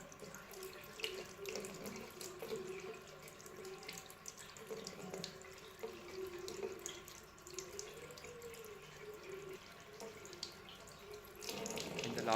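Tap water runs steadily over a Makibes G06 smartwatch in a water test, a continuous close splashing stream from start to finish without talk.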